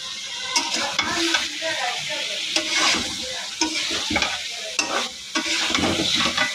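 Chicken pieces being stir-fried in a pan for a curry, a steady sizzle broken by repeated scraping strokes of a spatula, close and fairly loud with no talking.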